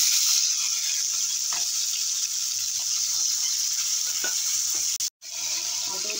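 Prawns hiss and sizzle in hot oil in a pan with bay leaf, cumin and radhuni, a steady close frying crackle with a few stirring knocks and a brief dropout near the end.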